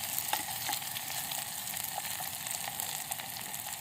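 Onions sizzling in a pan for noodles, cooked outdoors on a terrace camp stove, a steady close crackle with small pops and light stirring, no voices.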